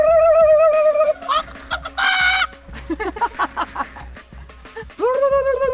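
Farmyard chickens cluck in short, irregular bursts, with a rooster crowing loudly at the start and again near the end, all close to the listener.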